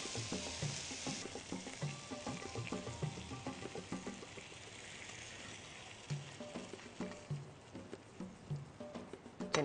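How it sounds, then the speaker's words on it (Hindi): Roux drizzled into white sauce in a frying pan over very low heat gives a soft, quiet sizzle, with gentle stirring and light pattering as it is worked in. "फ्राइंग पैन की आग बिल्कुल कम कर दें और रू को इसके ऊपर ड्रिजल करना शुरू कर दें"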